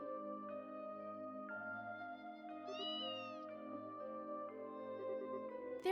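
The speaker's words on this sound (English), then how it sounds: "Oh, you silly kitty, you always do stuff like this." A cat meows in the video game Trails in the Sky SC, the call ringing out over steady, layered game music, with a sharp rising cry near the end of the six-second stretch.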